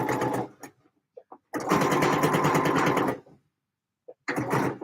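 A sewing machine stitches a Vogue 9345 skirt in close bursts: a short run, a long steady run of about two seconds, then another run after a pause, with faint handling noises between.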